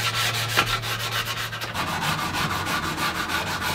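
Hand sanding along the edges of a wooden table built from yard logs, a steady rhythmic back-and-forth rasp of abrasive on wood, close and continuous with no talking.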